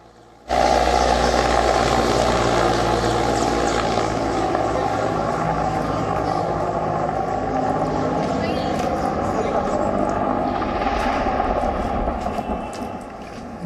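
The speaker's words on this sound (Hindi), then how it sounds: "इस हेलीकॉप्टर के इंजन की आवाज अचानक से बंद हो जाती है" Helicopter engine and rotor noise carrying steadily from near the start, a broad continuous roar with a low thrum that fades slightly toward the end, just before the aircraft's crash.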